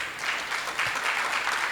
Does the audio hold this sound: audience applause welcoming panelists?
yes